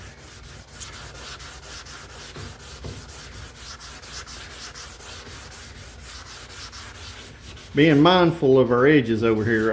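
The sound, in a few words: sanding car body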